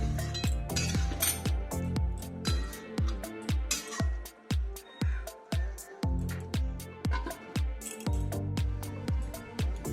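A metal spoon stirring katla fish head muri ghonto in a pot after a spoonful of sugar goes in, with repeated clinks and scrapes against the pot in an irregular rhythm, close up, with no talk over it.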